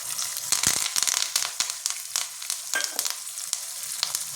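Curry leaves sizzle and crackle in hot ghee for a Bengali-style mung dal bora curry, a steady close frying hiss with sharp pops throughout.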